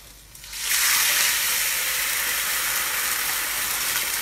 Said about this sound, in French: Et là on va venir déglacer maintenant.